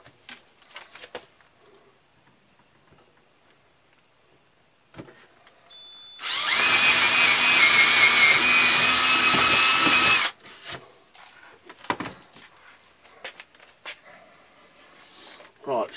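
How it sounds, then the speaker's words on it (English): Power drill boring a hole through wood for a homemade squirrel trap, a loud steady whine lasting about four seconds, with quiet handling clicks and scattered talk before and after. "So just there, we're going to drill a hole."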